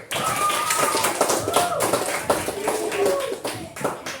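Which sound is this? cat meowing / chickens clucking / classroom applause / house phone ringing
classroom applause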